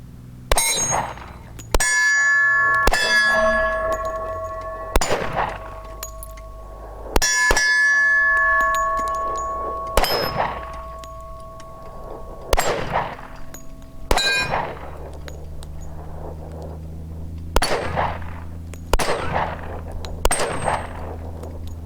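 A 10mm Smith & Wesson M&P 2.0 pistol with a red dot fires Sellier & Bellot ammo in about ten sharp, loud shots at an irregular pace, each followed by a ringing clang, with no talking.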